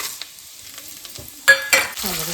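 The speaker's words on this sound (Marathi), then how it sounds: "ह्याच्यामध्ये मी टाकून घेते सर्व अख्खा मसाले" Whole spices crackle and sizzle in hot oil with chicken in a home kitchen, a quiet steady fry broken by two sharp bursts of spattering near the end, followed by a low stirring scrape.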